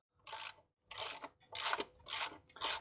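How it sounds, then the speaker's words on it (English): Ratchet clicking in five short bursts with brief pauses as studs are tightened on a Nissan QR25 engine during X-Trail head gasket work, close and crisp, with no talk. "I'll just quickly do up these studs."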